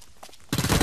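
P90 submachine gun fire in a video game: a loud, rapid burst of automatic shots starts halfway through, after a few faint clicks.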